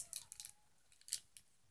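Scissors cut open a blind bag in a few quick, faint snips and crinkles, close by and irregularly spaced, with no talking.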